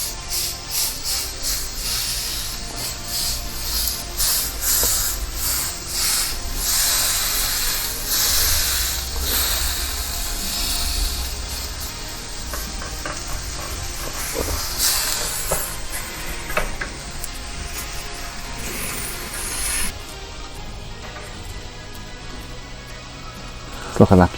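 Spring onions dropped into a hot pan beside a steak hiss and sizzle loudly and steadily, with sharp crackles and spits throughout and someone talking over the cooking.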